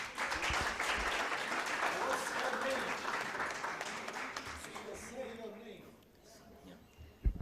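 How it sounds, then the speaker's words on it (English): An audience at a university competition finals applauds as a student receives an award. The steady clapping continues for about five seconds with voices underneath, then dies down into quieter talk. "So a round of applause as she's awarded."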